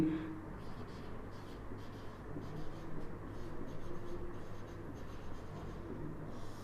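Hand-writing a chemical name during a chemistry lesson on aldehydes, ketones and carboxylic acids, a soft, continuous scratching of pen or marker strokes at moderate, even loudness.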